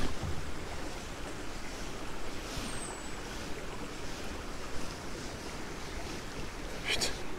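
Water rushing steadily after a sluice gate was opened on a fishing spot: a continuous broadband roar of flowing water, loud and close, with a faint voice and a brief rattle near the end.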